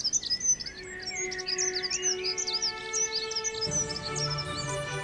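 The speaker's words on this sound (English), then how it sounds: "The avian concert continues until late in the evening." Several starlings and other birds call in the evening, a dense chorus of varied chirps, whistles and trills at moderate distance with a soft background hum, no voices.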